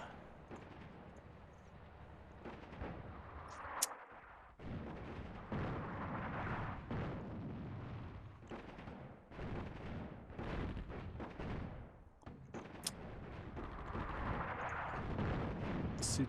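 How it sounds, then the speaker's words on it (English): Artillery shells firing in the strategy game Attack at Dawn: North Africa, a series of rumbling booms and blasts rolling in repeated waves, fairly loud and sustained over the clip. "what I can do is I can fire artillery shells on them"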